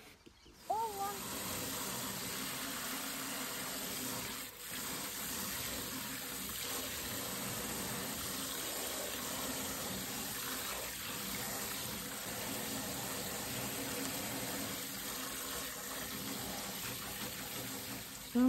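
Tap water runs steadily into a sink as fresh dill is washed, a continuous close splashing flow lasting the whole clip after a brief handling noise at the start.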